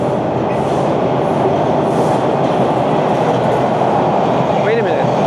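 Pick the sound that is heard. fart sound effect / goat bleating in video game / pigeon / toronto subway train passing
toronto subway train passing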